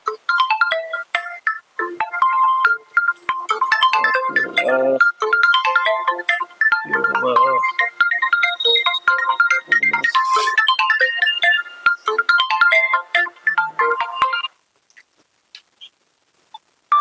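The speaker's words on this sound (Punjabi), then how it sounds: "ਆਪੀ ਦਾ ਫੋਨ ਆ ਗਿਆ" A phone ringtone plays a repeating electronic melody, loud and close, for about fourteen seconds before stopping.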